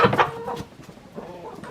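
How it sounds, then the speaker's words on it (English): A big barn-lot rooster gives a few short, throaty clucks close by outdoors, followed by a quieter second burst of clucking. "It's just a big old barn lot chicken."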